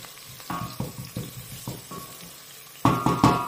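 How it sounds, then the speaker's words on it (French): Chili and nearly golden onions hit hot oil, heard as a sizzle under a run of rhythmic knocks and clinks from a spoon or pan, louder toward the end; nobody talks. "Je vais lancer mon piment directement dans l'huile. Toujours pour avoir ce goût parfumé, pimenté."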